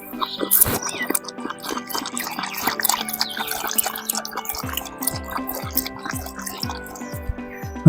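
Two dogs lap water together, producing rapid, repeated wet slurps and drips close by, a steady rhythmic lapping that continues throughout with faint background sounds.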